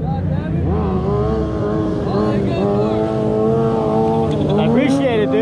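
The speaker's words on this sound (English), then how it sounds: "Fucking Harleys, man." Harley-Davidson motorcycles idle and rev in a parking lot meet, their rumbling engines rising and falling in pitch close by, with people talking over the steady engine noise.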